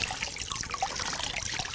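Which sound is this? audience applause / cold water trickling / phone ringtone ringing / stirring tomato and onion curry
cold water trickling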